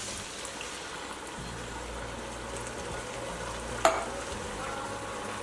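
A pot of softened vegetables and canned diced tomatoes for a spaghetti meat sauce simmers and sizzles while being stirred, with a steady low bubbling hiss and one brief sharp scrape or clink of the spoon near the middle.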